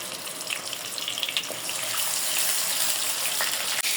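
Onion and green chili paste dropped into hot oil in a pan, giving a steady loud hiss and sizzle that swells and holds, close up with no talk.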